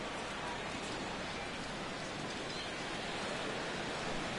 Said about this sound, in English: It could have a big impact when you get rain like this.